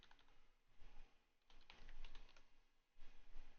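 Quiet, close clatter of fingers typing on a computer keyboard, coming in short irregular bursts of keystrokes with brief pauses between them.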